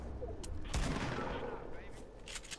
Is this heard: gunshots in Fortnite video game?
yes